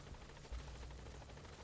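Helicopter in Metal Gear Solid V: The Phantom Pain arriving at a landing zone during gunfire, a steady, loud rotor drone filling the whole clip with no talk over it.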